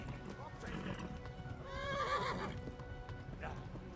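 A horse whinnies loudly amid clopping hooves in the video game Kingdom Come: Deliverance, with a voice talking over the scene.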